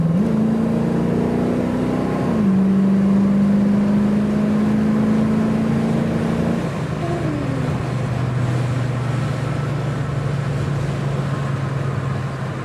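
A vintage Ford Mustang's 289 V8 engine accelerates with a deep, steady drone that holds, dips and settles lower in pitch, close and loud with no talking.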